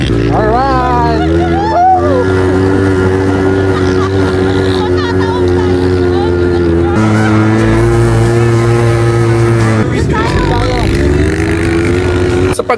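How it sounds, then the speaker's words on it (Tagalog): A motorbike engine starts and revs and idles loudly up close at the Red Sand area of Riyadh, Saudi Arabia, its pitch rising and dropping through several throttle changes. "Sa pagandar at pagtakbo ng motor"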